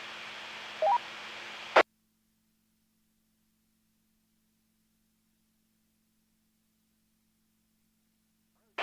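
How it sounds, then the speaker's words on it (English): On a 146.580 simplex amateur radio net, a brief burst of hiss and static as someone breaks the squelch, cut off abruptly into silence, then a short crackle returns at the very end. "Somebody breaking the squelch, but that's about it."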